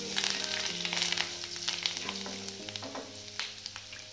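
Curry leaves sizzle and crackle sharply in hot oil for a Gujarati sev khamani tempering, with spitting pops over a steady frying hiss and a faint tonal hum underneath, close and unaccompanied by talk.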